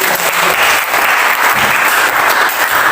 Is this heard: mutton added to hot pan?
no